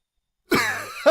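An elderly man coughs once, a sudden close hack breaking out of silence and trailing off briefly, with a faint start of a second cough at the end.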